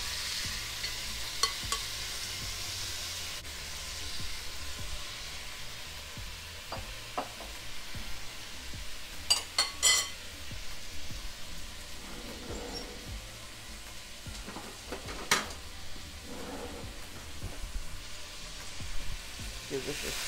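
Tomatoes, onions and fresh garlic sizzle and fry in a pan, a steady low crackle with occasional scrapes and clinks of stirring and brief faint voice in the background.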